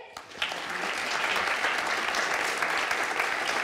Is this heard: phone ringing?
no